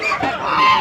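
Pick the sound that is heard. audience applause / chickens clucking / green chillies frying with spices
chickens clucking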